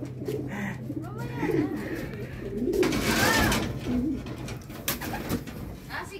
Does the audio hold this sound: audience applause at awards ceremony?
no